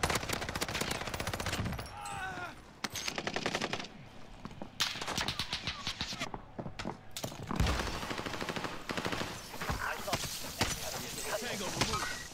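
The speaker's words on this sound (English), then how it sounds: "Receiving hostile fire." Rapid bursts of automatic gunfire crackle through a battle royale video game match on Caldera, with repeated volleys and short gaps, mixed with game sounds and players talking over the action.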